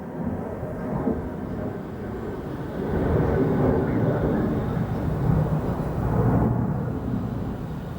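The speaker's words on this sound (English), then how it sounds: "Don't even know if you can hear me over that plane. That is really close." A low-flying plane passing close overhead, a loud broad rumbling roar that swells midway and stays heavy to the end, with no voices over it.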